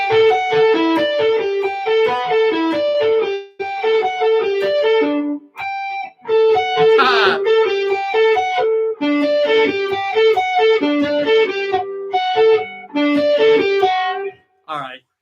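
Classic rock riff on a distorted electric guitar, bursts of chugging, ringing notes in repeated phrases with short gaps, loud and close.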